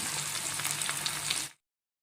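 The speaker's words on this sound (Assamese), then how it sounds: "আজি ৰিফাইনতে ভাজিম বুলি ভাবিছোঁ পনীৰ ফ্ৰাই কৰিছোঁ" Paneer frying in refined oil sizzles steadily and close, a dense crackling hiss that stops abruptly just before the end.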